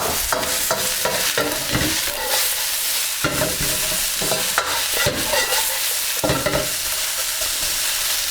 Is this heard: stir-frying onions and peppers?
yes